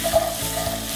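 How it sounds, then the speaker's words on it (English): Butternut squash seasoned with pumpkin spice mix sizzles steadily in a hot pan on the stove, a close, continuous frying hiss with no voices over it. "So you got that nice sizzle going."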